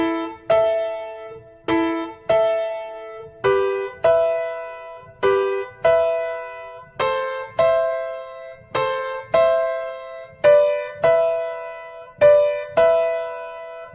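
A theme played on piano using just two fingers, a slow steady sequence of single struck notes and simple pairs, each ringing and decaying before the next, clear and alone.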